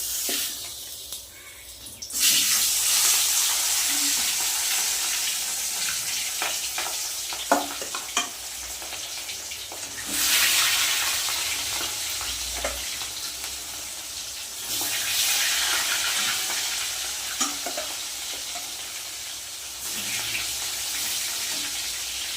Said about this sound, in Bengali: তেল কিন্তু গরম হয়ে গেছে এবার আমি একে একে মাছগুলো ভেজে নেবো